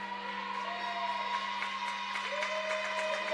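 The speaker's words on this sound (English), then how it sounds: "You can hear the fans clapping and cheering." Faint, distant clapping and cheering from fans in a gym at a women's college basketball game, a low steady crowd wash with scattered claps and an occasional shoe squeak over an electrical hum.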